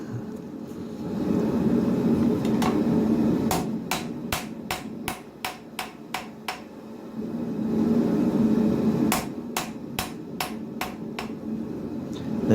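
A rounding hammer rings on a full tang knife blade at the anvil, sharp metallic strikes in two quick rhythmic bursts of several blows each, with steady forge roar between them and no voices.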